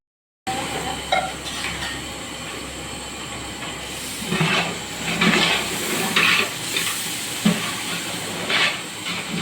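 Veg pulao ingredients frying in a pan, a steady hissing sizzle with a few louder bursts, heard close and continuous without talk.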